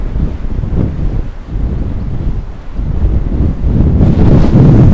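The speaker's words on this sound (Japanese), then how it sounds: "風強い。" Strong wind buffets the microphone on a bicycle ride along a hilly coastal road near Nagato, Yamaguchi, a loud, low rumbling roar that surges and dips continuously and swells heavier toward the end.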